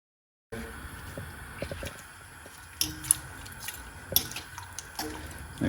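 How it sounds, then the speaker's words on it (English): A spoon stirs a pot of simmering beetroot pickle, with scattered clinks against the pot and soft liquid sloshing, close and fairly quiet. "Just give it a bit of a stirry stir."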